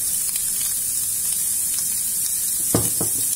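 Chicken liver sizzles steadily in a hot pan as it is fried with salt, pepper and parsley. A loud, continuous hiss fills the scene, with a few brief clattering bumps of stirring near the end.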